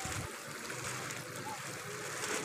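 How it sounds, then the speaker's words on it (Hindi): Tank water poured from a small container into a bag holding fish, a steady broadband splashing trickle that runs close and continuous throughout. "अब टैंक का पानी बस लो ये वाला थोड़ा सा एक डब्बा इसमें डालकर थोड़ा सा वक्फा करें"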